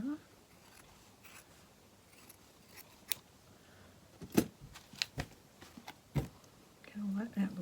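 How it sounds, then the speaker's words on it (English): Scissors snipping through fabric and batting during a quilting project, a scatter of short crisp cuts that cluster toward the middle of the clip, fairly close and soft, with a brief murmur of speech near the end. "now I think I'm going to cut it here."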